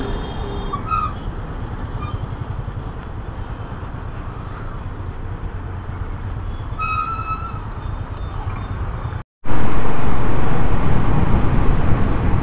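Highway traffic during a Royal Enfield Bullet motorcycle ride toward Titwala, heard as a constant loud rumble of engine and road noise, with a few distant horn toots and a sudden rise in wind roar near the end.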